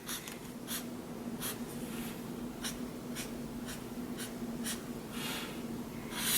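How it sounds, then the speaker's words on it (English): A pencil draws a figure's arms and fingers on paper, producing a series of short scratchy strokes at an uneven rhythm, close and fairly quiet against a low background hum. "You can draw some arms, fingers,"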